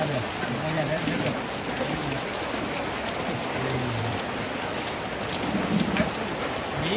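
Steady rain falls on surfaces outdoors, a constant hiss with hints of distant thunder, while people converse nearby at a funeral gathering in Tongkonan Layuk Tumika Lemo.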